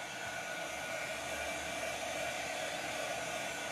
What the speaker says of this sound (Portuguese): Pode ser secador de cabelo, gente.